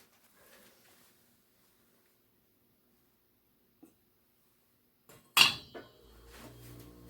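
A utensil clanks and scrapes against a pan holding scrambled eggs, with a lid used during cooking. Near silence gives way to one sharp metallic clatter, followed by softer scraping and sizzling.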